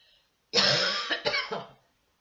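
A person with a sore, burning throat gives a short burst of harsh coughs, a loud cough followed by two or three quick rougher ones up close, with silence on either side.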